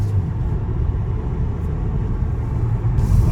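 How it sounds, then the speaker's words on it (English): A Hyundai Kona Hybrid on the road, its engine and tyres giving a loud, continuous low rumble from inside the cabin, steady throughout with no speech. "Makes a bit of noise, but it's bound to. It's a hybrid."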